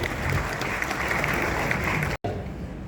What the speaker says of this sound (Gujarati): એની માટે પણ જોરદાર તાળીઓ થઈ જાય